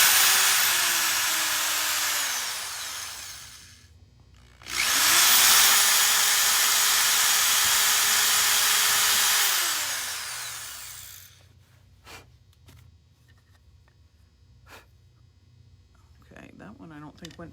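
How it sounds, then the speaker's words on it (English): A power drill bores through magnets for earrings and pendants in two loud, sustained bursts, each spinning up and winding down, with a short gap between them, followed by quieter handling noises and a few clicks. "as soon as the drill goes on, you may want to turn your volume down"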